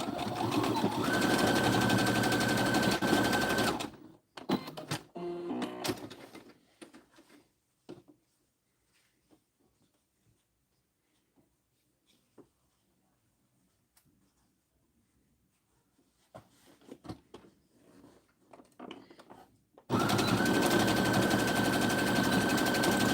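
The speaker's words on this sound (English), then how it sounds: "So we're just putting them together and sewing them down." Sewing machine stitching fabric pieces together for a bowl cozy, a steady close mechanical whir in two runs separated by a long quiet stretch of soft handling and rustling.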